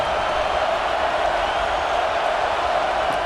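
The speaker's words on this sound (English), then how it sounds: "this crowd coming to life here, trying to help the defense get a stop" A packed football stadium crowd roars in a sustained, steady wall of cheering to urge on the defense during a Buckeyes versus Penn State game, loud and continuous without letup.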